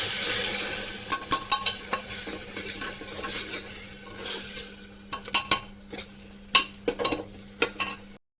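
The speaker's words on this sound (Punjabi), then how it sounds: "ਥੋੜਾ ਟਾਈਮ ਭੁੰਨਣ ਤੋਂ ਬਾਅਦ ਤੜਕੇ ਨੂੰ ਆਪਾਂ ਟਮਾਟਰ ਦਾ ਪੇਸਟ ਵੀ ਪਾ" Tomato paste and spices sizzle in a pan while an Amritsari-style aloo wadiyan and pakora curry tempering is fried, with a steady low hiss and repeated sharp clinks of a spoon stirring against the pan, growing busier toward the end.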